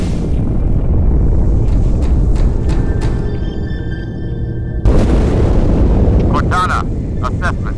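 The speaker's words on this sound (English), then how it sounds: "That explosion came from inside the Athens, same as the Malta." Explosion aboard a ship in the video game Halo 2: a loud, deep rumbling boom that swells and rolls on, with a second heavy burst midway over wind-like roar and scattered radio-style chatter.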